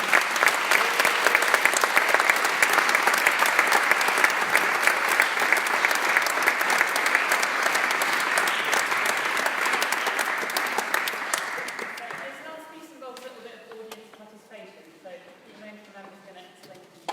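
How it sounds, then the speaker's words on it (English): A concert audience at a youth orchestra event claps loudly and steadily for about twelve seconds, then the applause thins out and fades into scattered claps and murmurs. "let's just give one more round of applause for everyone"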